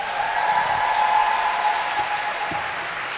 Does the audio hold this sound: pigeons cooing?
no